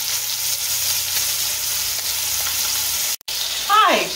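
A pork roast sears in a hot pan, giving off a loud, steady, close sizzle and frying hiss that runs unbroken except for one brief dropout near the end.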